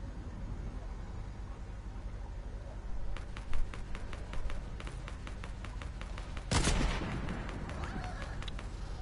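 Gunfire in Fortnite: a rapid string of sharp, evenly spaced shots in the middle, followed by a heavier single blast, set against a steady game background.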